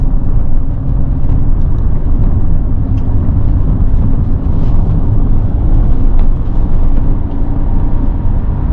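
A Mercedes-Benz E320 CDI V6 diesel with Avantgarde trim drives along, a loud steady low engine and road drone heard from inside the cabin that rises and settles slightly through gear changes.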